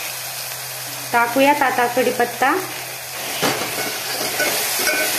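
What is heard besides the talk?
frying ground spice paste (vatan) for amti in a pan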